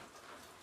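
Heavy rain pours outdoors as a dense, steady hiss with no pauses, fairly soft and continuous.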